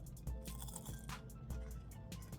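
Crisp crunching bites of Firehouse Subs fries close to the mic, a series of sharp crackles as they are chewed, with no talking.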